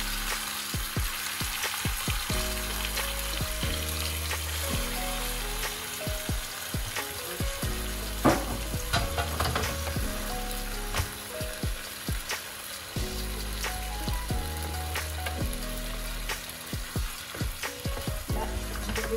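A potato and vegetable mixture frying in a pan, a loud steady sizzle that runs throughout with occasional stirring scrapes and knocks on top.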